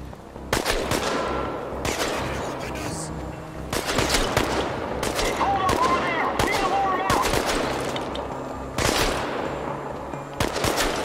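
Video game gunfire in Chernobylite, with repeated loud bursts of rapid shots, some sustained like automatic fire, separated by short quieter gaps, over a steady in-game background.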